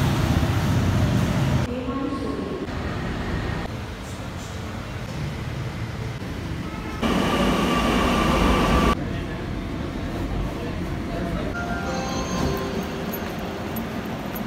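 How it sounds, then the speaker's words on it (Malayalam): A metro train ride toward Palarivattom brings a steady rumbling hum of the moving carriage that swells and settles in sections, with faint voices at times under the running noise. "ഇനിയിപ്പോൾ മെട്രോ സ്റ്റേഷൻ പിടിക്കണം."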